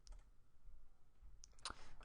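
A computer mouse clicks once or twice, quick and faint, amid a quiet room hush with a few soft ticks.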